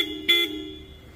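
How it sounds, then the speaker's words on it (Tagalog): A loud, piercing aftermarket supersonic car horn on a 2025 Toyota Fortuner gives a short blast, its bright tone ringing briefly before fading into a lingering hum. "And then nilagyan natin siya ng supersonic horn."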